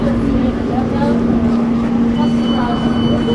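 A tram in Frankfurt gives off a steady low rumble with a constant electric hum from inside the car, with faint voices around.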